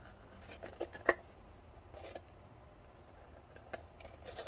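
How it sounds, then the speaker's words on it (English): Scissors snip through a sticker book page for a planner layout, a few quiet, scattered cuts with one sharper snip near the start and a faint rustle of paper between them. "And I'm gonna cut it."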